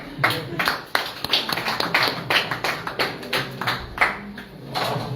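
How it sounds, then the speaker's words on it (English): An audience at a Gambian PDOIS press conference claps in a brief, loose burst of applause, the individual claps distinct and fairly close, with no speech over it. "Clap for him."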